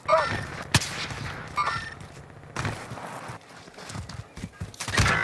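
Gunfire in Call of Duty Warzone on the Verdansk Resurgence map. Several sharp shots crack at irregular intervals amid game ambience, one standing out near the start and more arriving toward the end.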